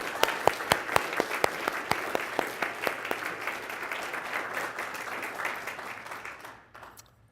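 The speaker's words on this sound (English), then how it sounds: "Let's give them a round of applause." An audience at an awards ceremony claps in sustained applause, with loud, sharp individual claps at the start over a dense crowd wash that gradually thins and fades out near the end.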